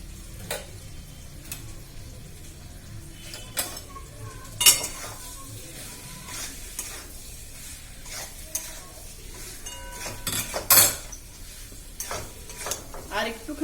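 Bihari chicken curry being sautéed and stirred in a pot, with intermittent scraping and clinking of a utensil against metal over a soft sizzle, a few sharper clatters standing out.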